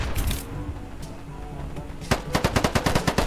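Gunfire in a first-person shooter game: scattered shots and game noise give way to a loud, close, rapid burst of automatic fire, evenly spaced cracks continuing to the end.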